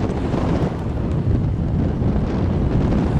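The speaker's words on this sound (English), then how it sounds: "really, really good to have the wind blowing your hair in your face" Wind blasts across the microphone in a continuous loud, low rumbling buffet that stays dense and turbulent throughout with no letup.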